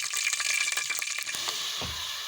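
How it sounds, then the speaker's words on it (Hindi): Cumin seeds hitting hot oil in a pan for mutton karahi, a loud bright sizzle that bursts at once and crackles steadily for a couple of seconds, close up with no talking. "ऑयल गर्म हो चुका है और अब इसमें मैं जीरा डाल दूंगी"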